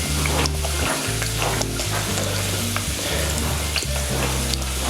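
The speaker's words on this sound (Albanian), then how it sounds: "unë kam vënë skuq kokat e kërkalecit me finokun dhe qefën" Prawn heads frying with fennel and mullet in a pan give a loud, continuous sizzle and crackle, close up and unbroken, with no talk over it.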